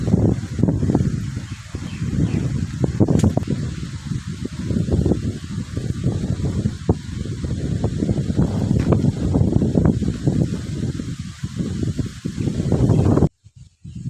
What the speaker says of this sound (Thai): ลมมาแรง